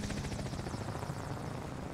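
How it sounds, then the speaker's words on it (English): A helicopter's rotor chops in a loud, steady, close-up drone in the Modern Warfare video game, filling the scene with continuous thumping noise and no voices. "God, the helicopter's so fucking loud."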